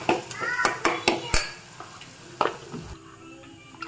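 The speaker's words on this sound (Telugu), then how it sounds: "పసుపేసుకొని ఒకసారి కలుపుకోండి." Onion paste and turmeric being stirred in a curry pot, several sharp metallic scrapes and clanks of a spoon against the pot in uneven rhythm, close and fairly loud, with faint voices in the background.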